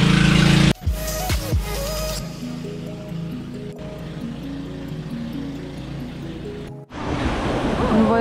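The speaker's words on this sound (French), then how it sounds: "Nous voilà arrivés sur la belle plage" Waves wash onto a beach at Puerto Princesa in the Philippines, with a loud surf rush at the start and again at the end and steadier tonal sounds in between.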